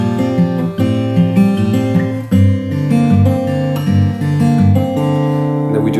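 Acoustic guitar plays a descending walk-down chord passage from a song, with strummed chords stepping down in steady rhythm, close and loud, with no voices.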